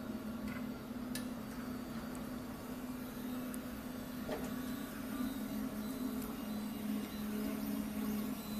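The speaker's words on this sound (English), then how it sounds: "this is our industry 3D printer, MD16" A MINGDA MD16 industrial 3D printer with a metal frame runs steadily up close, giving a constant mechanical hum with a whirring drone and light ticking clicks throughout.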